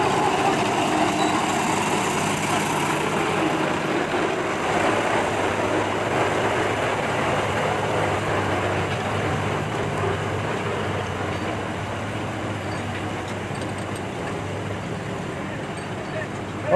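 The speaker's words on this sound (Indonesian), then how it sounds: "lokomotif mulai lewat" A rescue locomotive rolls past near a derailed rail trolley in a village, giving a continuous loud engine rumble and rolling drone that holds steady for the whole stretch.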